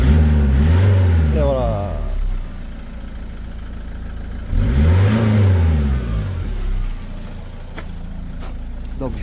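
Citroën Berlingo HDi 90 diesel engine with Siemens injectors rising from idle, revving up loudly twice in close range, with someone talking over it between the revs.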